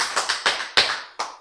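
Hand claps in a church lecture hall during a sermon: about six sharp, close claps in an uneven rhythm, each with a short decay, standing alone without talk.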